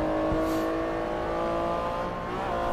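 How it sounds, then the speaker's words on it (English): An Acura NSX race car engine in Forza Motorsport 3 drones steadily at sustained revs with a harmonic tone, close and constant, with a slight pitch shift near the end. "I'm driving the Acura NSX."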